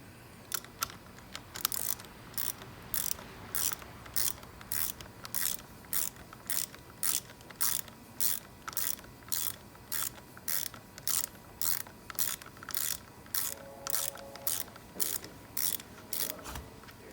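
A 1/2 inch ratchet wrench on a Hyundai wormshaft assembly clicks in quick, evenly spaced bursts, stroke after stroke, close and clear with short pauses between swings and no talk.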